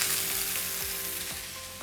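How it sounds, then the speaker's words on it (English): Pork chops sear in a hot pan with a steady, close sizzle throughout. A few faint scrapes are heard, and no one speaks. "now we're gonna sear about a minute on each side"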